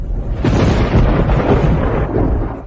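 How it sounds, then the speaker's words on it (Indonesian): A sudden rumble of thunder on a clear day, a loud, sustained low roar that rolls on for a few seconds with no talk over it. "Itu aneh, hari cerah, mengapa tiba-tiba ada guntur?"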